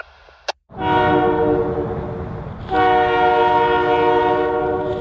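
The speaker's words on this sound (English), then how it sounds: "SCFG Train 566 is on the move east from New Richmond to Port Daniel" An SCFG train on the Gaspésie Railway rolls east from New Richmond toward Port Daniel, sounding a loud, sustained horn with steady rumbling wheel noise beneath, after a brief sharp click at the start.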